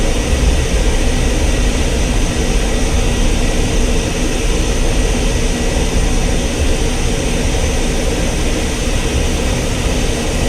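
A taxiing aircraft in Digital Combat Simulator gives a loud, unbroken engine drone that holds steady throughout, with no voices.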